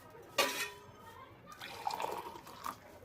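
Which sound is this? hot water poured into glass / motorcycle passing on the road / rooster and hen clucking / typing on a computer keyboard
hot water poured into glass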